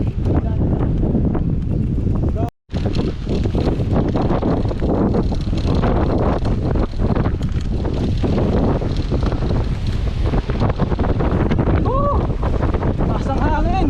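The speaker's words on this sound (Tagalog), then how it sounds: "Grabe, taas ang hangin." Strong wind roars against the microphone on a bike ride through open countryside in San Rafael, Bulacan, a loud, constant buffeting with a brief dropout and faint voice fragments underneath.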